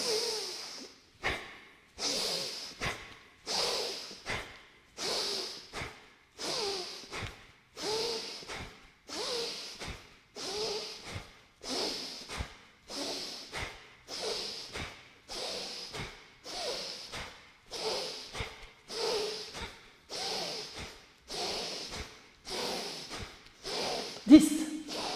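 Rapid, forceful nasal breaths during a yoga breathing exercise, about thirty sharp exhalations roughly one per second in a steady rhythm, close and clear with no talking.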